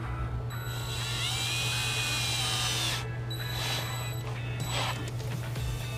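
A power tool tightens a fuse holder during a trailer wiring install on a 2017 Hyundai Elantra, whirring steadily for a few seconds and then in shorter bursts.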